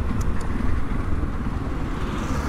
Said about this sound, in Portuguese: mas vou deixar a moto ligada.